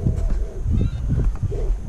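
Geese honk in short bursts close by outdoors near a strip where a ground effect vehicle is tested, and the calls repeat over a rough, noisy background.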